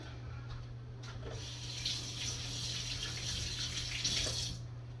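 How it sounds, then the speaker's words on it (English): Hands being washed under a running kitchen tap, a steady broadband rush of water with slight splashing changes, close and continuous with no talk. "Hold on, let me wash my hands."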